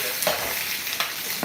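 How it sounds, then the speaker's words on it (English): Leftover turkey fries in a hot pan with a steady, fairly loud sizzle, broken by a few brief stirring scrapes. "Fry those up a little"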